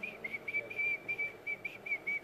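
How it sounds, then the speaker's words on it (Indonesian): A person whistles a steady high tone without pursing the lips, in a series of short, even pulses at close range and moderate volume, with no talking over it. "Aku bisanya siul tanpa monyong gitu bisa."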